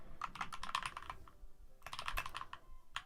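Rapid typing on a computer keyboard in two quick flurries of crisp key clicks separated by a short pause, quiet and close.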